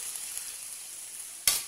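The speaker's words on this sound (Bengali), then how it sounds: "পেঁয়াজটা একটু লাল লাল ভাজা হয়ে এসছে" Onions frying in a pan for dum aloo give a soft, steady sizzling hiss, broken near the end by a brief louder crackle, with no one talking.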